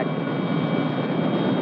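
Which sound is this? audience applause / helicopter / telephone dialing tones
helicopter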